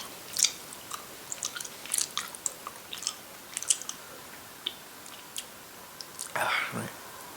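Someone chewing taffy up close, with soft sticky smacking and squelching bites repeating irregularly over quiet background, ending in a short louder smack.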